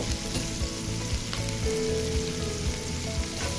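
Instant noodle spice mix fries in oil with onion and tomato in a pan at home, a loud, steady close sizzle with soft scraping stirs and no talk.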